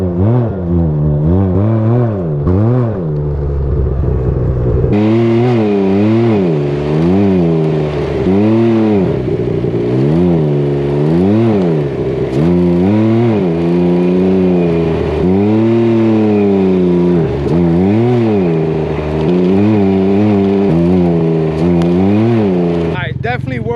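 Can-Am Ryker three-wheeler engine revving hard while riding on dirt, heard as loud, continuous, rising and falling engine roar throughout with a voice underneath.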